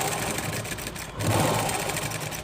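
A sewing machine runs steadily while stitching a shape belt, a close, continuous mechanical whir with a fast rhythmic needle chatter that swells briefly midway.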